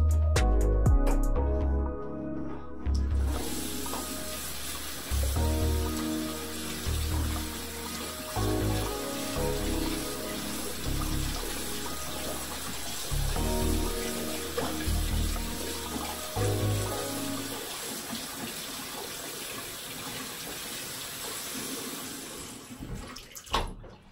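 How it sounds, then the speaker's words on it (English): Water runs steadily from a tap into a sink while hands are washed, a continuous close splashing stream with shifting flow lasting throughout before it stops. "Wash your hands off, okay?"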